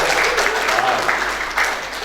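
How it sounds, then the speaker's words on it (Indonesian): Congregation applause for the church team during a Sunday service, steady hand clapping throughout with talk running underneath. "Boleh kita tepuk tangan buat tim dan saya luar biasa"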